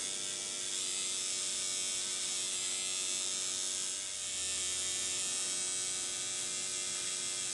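A tattoo machine gives a steady, continuous electric buzz throughout, close and even in level, with a slight dip in intensity about midway.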